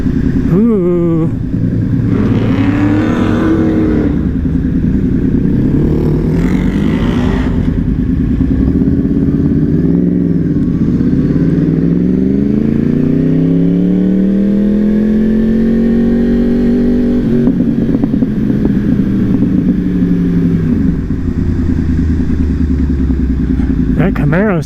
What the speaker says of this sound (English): That Camaro sounded good